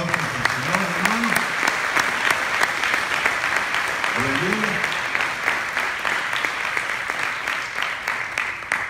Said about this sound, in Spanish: Den una fuerte ofrenda de aplausos al Señor, hermano.